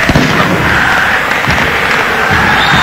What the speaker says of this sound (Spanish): La gente aplaude.